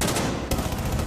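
Gunfire in the video game Rainbow Six Siege, a short burst of rapid shots with a sharp crack midway, fairly quiet in the mix and with no talking.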